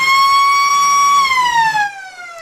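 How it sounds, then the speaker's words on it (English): A loud siren at a suburban football ground, heard right next to it as one strong steady wail that glides downward and fades near the end, with no voices. "That siren is very loud, and we're right next to it."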